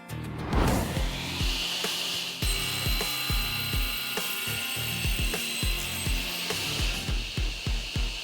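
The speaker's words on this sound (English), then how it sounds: "we are ready to put it on the saw so we can get rid of the edges and get it to the exact dimensions that we need" A power saw trims the edges of a glued Iroko timber tabletop, with a steady loud whine broken by a series of repeated cutting bursts, close and alone with no voices.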